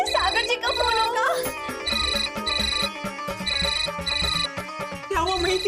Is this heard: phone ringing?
yes